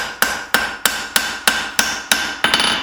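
A hammer strikes hot steel, forging the bevels of a knife blade, with about eight sharp, evenly spaced metallic blows close by, each ringing briefly, and no voices.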